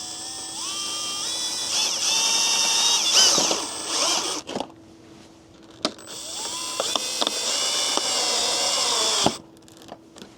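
A power drill drives screws into a Tesla charger wall mount in several close, loud bursts of whining motor, with the pitch rising and falling and short pauses between the runs.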